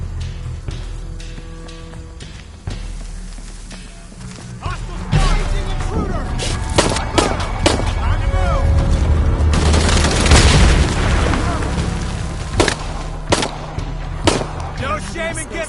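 Enemy gunfire in Shadow of the Tomb Raider, loud sharp shots and booming impacts in irregular bursts among crashes and other game noise, with voices talking in between.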